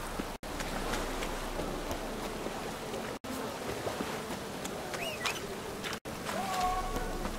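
Steady rain falls in The Witcher 3, a continuous soft hiss with a few brief dropouts, while bird calls and chirps sound over it now and then.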